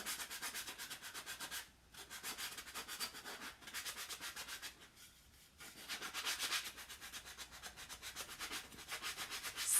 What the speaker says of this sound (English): That's what I'm doing. I'm just sanding away.